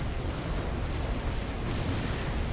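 Torpedo hits exploding on a ship in a naval video game: a dense, continuous roar of blasts and rumbling debris, loud and close, with no pause for the whole stretch.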